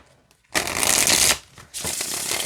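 A tarot card deck is riffle-shuffled close up, with two bursts of rapid papery flicking separated by a brief pause, heard alone without talk.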